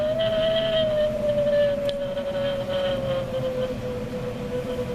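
Wind effect played from a speaker inside a Halloween display house, a steady whistling howl that holds one sustained tone and slowly sinks in pitch, over a low rumbling bed, continuous and fairly loud for the whole stretch.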